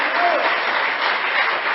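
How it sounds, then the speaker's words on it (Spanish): Church congregation clapping after a sermon, a loud, even roar of applause with faint voices mixed in, sustained throughout. "Un aplauso al nombre."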